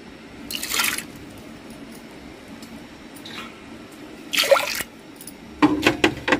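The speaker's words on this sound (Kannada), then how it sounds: "ಆ ಬೇಳೆನ ಹಾಕ್ತಾ ಇದ್ದೀನಿ." Soaked toor dal and its water are poured into a pressure cooker in a home kitchen, giving several short wet splashes and drips in separate bursts over a quiet background, with no speech.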